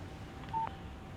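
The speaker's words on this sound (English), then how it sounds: "Text message from Barry." A single short electronic beep from a phone announcing a text message in the Alan Wake video game, one clean steady tone over a low hum of game ambience.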